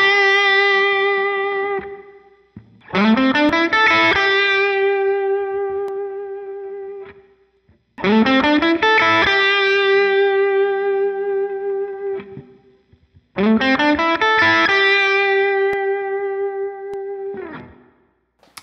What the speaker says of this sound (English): So a little bit of overdrive, a little bit of distortion.